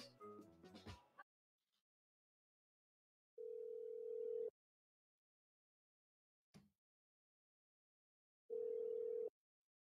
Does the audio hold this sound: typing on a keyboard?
no